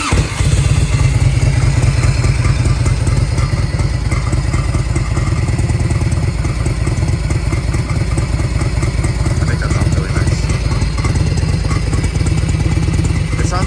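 A motorcycle engine idles loudly and close by in a continuous rumble, with a clattering exhaust rattle running through the steady exhaust note.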